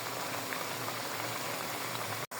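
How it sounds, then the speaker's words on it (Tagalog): Pork adobo vinegar simmering and reducing in a pan gives a steady, close bubbling hiss with no pause, broken only by a short silent dropout near the end. "Patuyo na yung ating suka."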